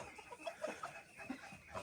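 Chickens in a newly fenced backyard pen, including Amrox hens and a young Leghorn rooster, cluck softly in scattered short calls, faint and intermittent.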